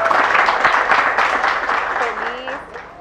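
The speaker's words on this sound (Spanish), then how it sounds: "Un aplauso." Audience applause at a martial arts ceremony in Armenia, a dense round of clapping from a crowd that swells and then gradually tapers off, with voices faintly mixed in.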